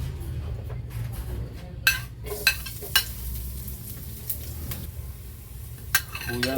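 Garlic, onion and ginger sizzle in a pan for chicken curry, a soft steady frying hiss broken by several sharp clinks and scrapes of a utensil stirring against the pot.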